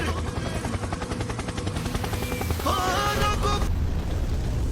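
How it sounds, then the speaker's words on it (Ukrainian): Melman the giraffe's helicopter move in the Madagascar video game produces a loud, continuous rapid chopping whir like spinning rotor blades, heard alone for several seconds. "А Мелман гелікоптер. Гелікоптер, гелікоптер!"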